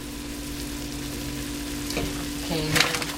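Vegetables sautéing in a pan for cream of broccoli soup, a steady low sizzle with a constant hum beneath and a few louder clinks and stirring scrapes toward the end.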